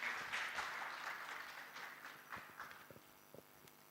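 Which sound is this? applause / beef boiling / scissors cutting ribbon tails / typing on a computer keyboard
applause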